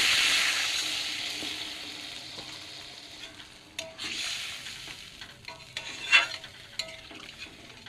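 Spice paste for a fish curry sizzles and hisses loudly as water is poured into the hot pan, then settles into softer frying crackle with scraping stirs and a few sharp clinks, close by with no talking.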